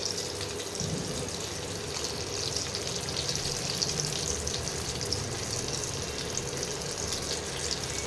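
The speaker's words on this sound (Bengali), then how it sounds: "এই দেখো লাল লাল করে ভাজা হচ্ছে" Chicken popcorn pieces deep-fry in hot oil in a home kitchen, giving a steady, dense bubbling hiss that carries on evenly throughout at moderate volume.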